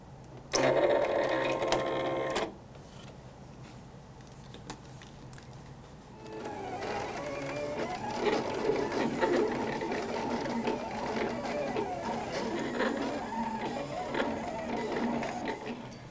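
A Silhouette cutting machine works on a printed sheet, first a brief loud mechanical whir, then a long stretch of steady motor buzzing and clicking as the blade moves, close by.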